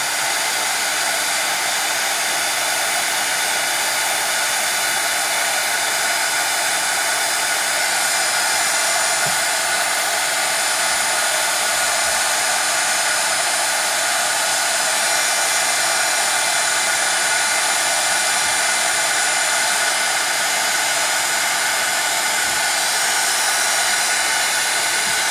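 A heat tool melting a coating on a steampunk canvas blows with a loud, constant whooshing hum that holds unchanged from start to finish, with no talking.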